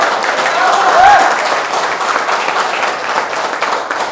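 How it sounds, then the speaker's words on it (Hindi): Audience applause at a poetry open mic in Ambala Cantt, a dense sustained burst of clapping from a full room that swells briefly near the middle, then gradually thins and softens toward the end. "मेरे स्वागत में आपने जो ये तालियों का आतंक मचाया है"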